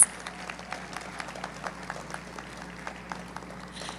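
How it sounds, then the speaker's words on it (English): Faint, scattered clapping from a distant crowd at an awards ceremony in Tobago patters along evenly for a few seconds. "can we have a huge round of applause for our Bronze Award"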